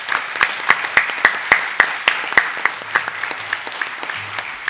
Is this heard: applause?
yes